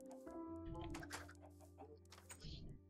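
Chickens in the video game Minecraft cluck repeatedly in short bursts under steady game music, with a voice talking over them.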